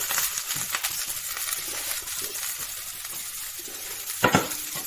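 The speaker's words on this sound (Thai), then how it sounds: "เป็นหัวโคราบีเนาะ จะผัดไข่จ้ะ" Kohlrabi and egg being stir-fried in a pan, a steady close sizzle with spatula scrapes and a couple of sharper clinks of utensil against the pan, no talking.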